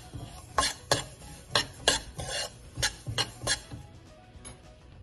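A spoon scrapes and clinks in a metal pan while sesame seeds and peanuts roast for chikki, giving irregular close stirring strokes with light rattles that fade toward the end.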